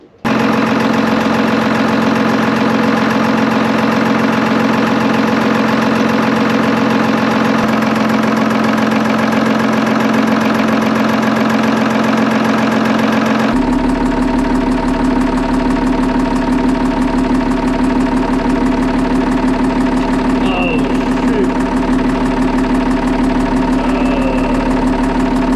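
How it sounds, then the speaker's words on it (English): A running engine idles low and steady with a constant drone and slight knocking vibration, continuing without interruption and with no talking. "This engine is supposed to idle between 600 and 800 RPM"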